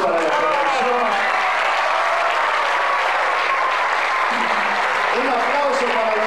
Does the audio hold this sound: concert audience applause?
yes